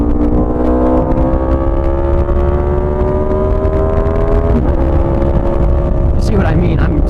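Aprilia RSV4 1100 sport motorcycle pulling hard in second gear, a loud steady engine note rising in pitch across the run amid heavy wind rush, with a voice talking over it throughout.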